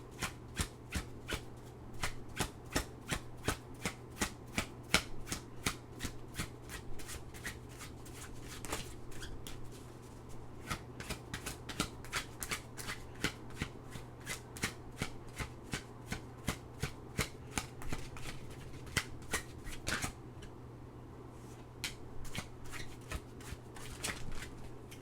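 Tarot cards being shuffled by hand in a steady run of crisp, rapid riffles and slaps, close and clear over a low steady hum, with a few brief pauses between bursts.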